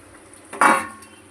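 A clatter of an oily metal plate being rinsed and handled with hot water in a home kitchen, one brief bright clang-and-splash burst near the mic that fades within a second, with quiet room tone around it.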